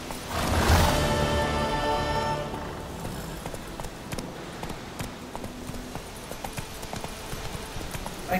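Hooves clip-clop in a quick steady rhythm in a video game, after a louder burst at the start, moderately close with a faint background wash.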